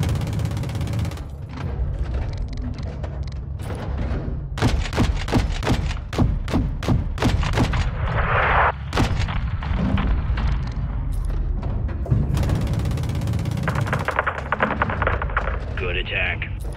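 Gunfire at a gas station in the video game Modern Warfare 2: rapid bursts of rifle shots and heavy thumps under radio chatter, with dense volleys and distant booms throughout.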